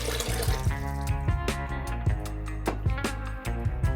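One and a half cups of water pour into a blender jar for a cherry Kool-Aid slushie, a close, continuous gurgling splash with a rising, ringing tone as the container fills.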